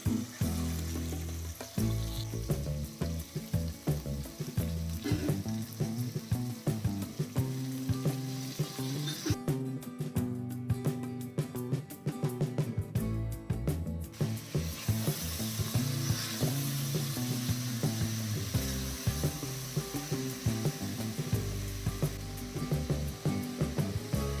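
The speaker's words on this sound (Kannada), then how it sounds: "ginger garlic paste, tomato, beans, carrot, ಎಲೆಕೋಸು, ಆಲೂಗೆಡ್ಡೆ ಈ ಎಲ್ಲ ತರಕಾರಿ ಹಾಕೊಂಡು ಮಿಕ್ಸ್ ಮಾಡ್ಕೊಳ್ಳಿ" Onion, ginger garlic paste, tomato, beans, carrot, cabbage and potato fry in a pan for a vegetable palya, a steady close sizzle broken by stirring scrapes throughout, with a brief quieter stretch partway.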